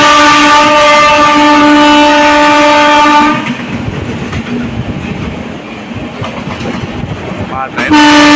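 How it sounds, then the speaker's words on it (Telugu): A passenger train on the Visakhapatnam to New Delhi route sounds a loud, sustained horn for about three seconds, then rumbles and clatters nearby. A second short horn blast comes at the end. "మా ట్రైన్ ముందైపోతుంది."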